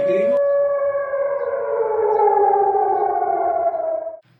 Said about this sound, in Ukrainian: Включіть сирени!